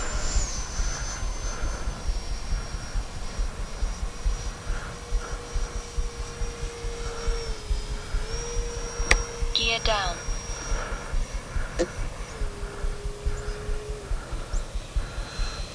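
A Freewing A-6 Intruder RC jet flies by with a steady, thin turbine-like whine that shifts in pitch as it passes, over constant wind noise, while someone talks nearby.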